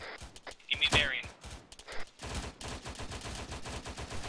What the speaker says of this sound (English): That machine gun is shooting off full auto